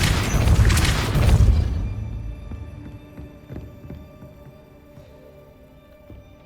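The Depulso spell in the Hogwarts Legacy video game lets off a loud, forceful blast that quickly dies away into a lingering ringing tone with faint clanks, and no voices are heard.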